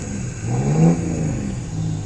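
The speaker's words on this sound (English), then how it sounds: "Got somebody over next door with revving up an engine" An engine revs up, rising to a loud peak in the middle before settling back to a steady idle, heard from a short distance.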